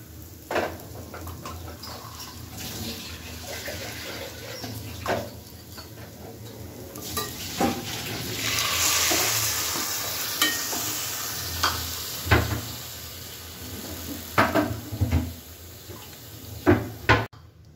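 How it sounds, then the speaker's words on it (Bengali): Water poured slowly into fried millet khichdi in a pan, a sizzle and bubbling hiss swelling as the liquid hits, with repeated scraping and clinking stirs of a spoon throughout, no voices. "ভাজা আমার হয়ে গেছে। এবার আস্তে আস্তে এর মধ্যে জল দিয়ে দেবো খিচুড়িটার জন্য।"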